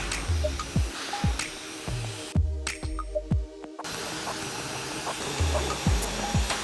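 A hair dryer blows steadily with a whooshing hiss while drying hair upside down, cutting out briefly midway, while soft rhythmic brushing thumps sound underneath.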